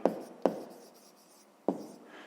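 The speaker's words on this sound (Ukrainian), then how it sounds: "Пишемо друге і записуємо" A pen writes a math expression by hand on paper in three sharp, close strokes with quiet gaps between them.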